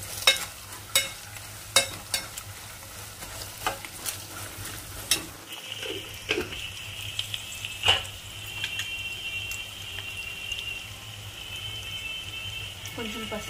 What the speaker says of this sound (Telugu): కొంచెం వేగిపోయాక ఆల్రెడీ వేసి పెట్టుకున్న శనగపల్లకులు వేసుకుందాం కొంచెం ఫ్రై చేసుకోవాలి